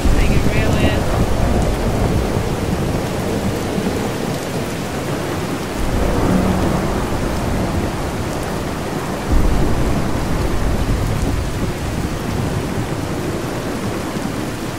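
Thunderstorm with heavy steady rain from the True Storms weather mod in Fallout 4, a dense continuous downpour with low rolling thunder swelling around the middle and a sharper rumble later, loud and close with no talking.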